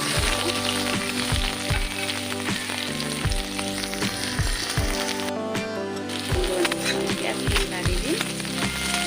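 Chopped onions sizzle in a heated iron kerahi for an Assamese curry. The frying hiss is steady and fairly loud, broken by regular soft knocks and a brief quiet gap midway.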